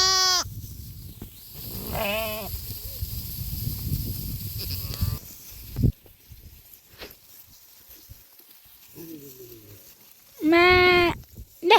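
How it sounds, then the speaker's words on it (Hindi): Sheep bleat on a farm, with several wavering calls spread out across the stretch, some close and loud and one drawn-out cry near the end, separated by quiet gaps and faint background noise. "यहाँ पे भेड़े भी मिल गई, थोड़ा उनको भी प्यार कर लिया"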